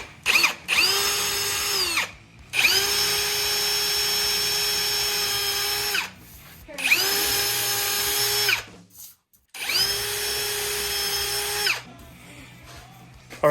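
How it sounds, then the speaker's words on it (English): A power drill bores holes through a ski with no metal top sheet while mounting Shift MNC backcountry bindings, in three long loud whirring bursts separated by short pauses, close up and alone. "now that we've drilled all of the holes, we can remove the template"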